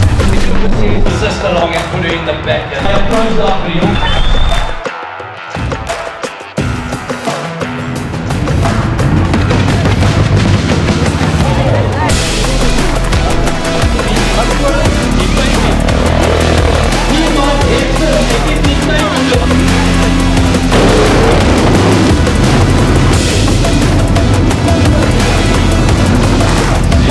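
Deep booms and crackling bursts of fireworks go off continuously at a raceway's annual Christmas fireworks show, loud and dense, layered over a roaring crowd or engine-like background with a brief lull early on.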